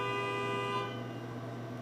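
Steady, sustained car horn tone heard from a distance, a single long blare that fades slightly toward the end against quiet background.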